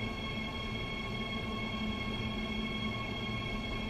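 A Bombardier BR 187 (TRAXX AC3) electric locomotive runs in Train Sim World 2 on the Spessart Rampe, giving a steady, loud electric whine and rumbling rail drone with no variation or voices.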